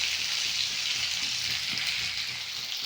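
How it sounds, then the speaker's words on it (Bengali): Potato pieces fry in hot oil with a continuous, even sizzle that stays close and steady throughout. "আলুটা আলাদা করে একটু ভালো করে ভেজে নেব।"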